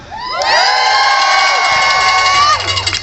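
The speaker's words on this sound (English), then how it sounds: "Please give the loudest cheer for each of our trusted friends." A crowd at an outdoor transgender rights rally cheers loudly, with high, sustained shouts and whoops rising together and holding for a couple of seconds before tapering off.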